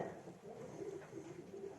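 Racing pigeons cooing in a loft, a dense and steady murmur of overlapping coos from several birds close by, continuing without a break and with no talking.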